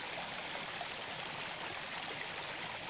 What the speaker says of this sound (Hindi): जैसे जैसे ही बारिश चालू होती है वैसे ही देखिए नदियाँ बहने शुरू हो जाती है हर जगह पे।